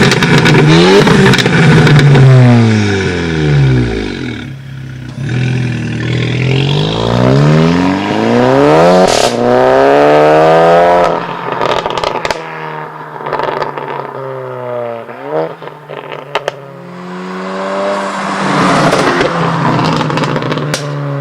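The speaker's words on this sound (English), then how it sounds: "the Golf GTI, which has a straight piped IPE exhaust system" Volkswagen Golf GTI with a straight-piped IPE exhaust revving hard and loud, engine note sweeping up and down through repeated rises and falls with crackles between pulls, heard alone up close.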